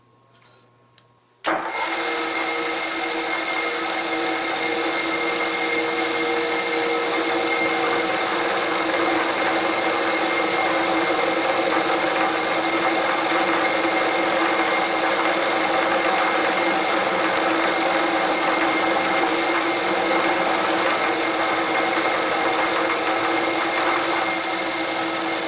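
A milling machine cuts metal blocks in a long continuous run, a steady loud mechanical whine and grind that kicks in abruptly after a short quiet start and holds without a break.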